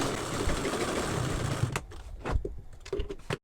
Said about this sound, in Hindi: अब इसमें आप मजबूती के लिए एक दो और सिलाई चलाना चाहते हैं चला सकते हैं।